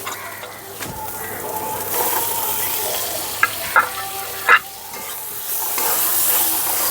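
Chopped tomatoes drop into a spice masala frying for Bengali ghugni, bringing a steady broad sizzle with a few sharp stirring clinks and scrapes partway through, close and moderately loud, with no talk.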